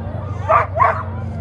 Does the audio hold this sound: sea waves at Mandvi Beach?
no